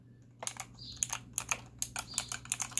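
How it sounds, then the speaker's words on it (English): SteelSeries Apex 5 keyboard keys pressed one after another in a steady series of crisp, close clicks over a quiet low hum, with no voices. "this is a quick video of basically how this SteelSeries Apex 5 sounds like when you"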